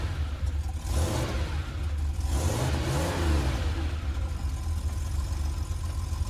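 A sports car engine revs through a couple of rising and falling swells over a rumbling idle, loud and close, with no voices.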